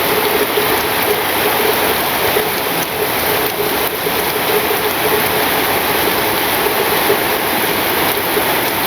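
A wind and rain storm sets in over a village, a loud, continuous rushing roar of gusts and downpour that holds steady without a break.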